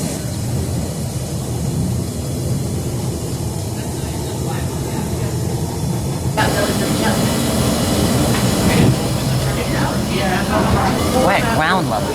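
A Chicago Blue Line train riding toward O'Hare, a continuous loud rumble and hiss of the moving car with rising rattling and squealing later on.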